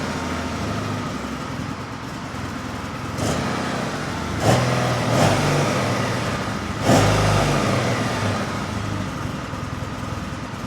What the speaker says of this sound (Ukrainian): от як звучить Kawasaki W650